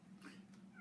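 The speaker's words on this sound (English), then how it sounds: "you can hear the cat crying" A cat crying outside, heard faintly through closed doors as one brief muffled meow over a low steady hum.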